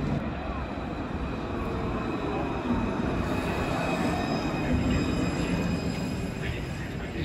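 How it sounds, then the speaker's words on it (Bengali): A tram in Lyon, France rumbles past with a steady rolling roar and faint high wheel whine, heard close at street level with some background voices. "এই হচ্ছে ট্রাম বেসিকলি।"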